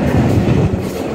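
A Dhaka metro rail train runs along the track, heard from inside the carriage as a loud, close, rumbling roll with faint rhythmic clatter, no talk.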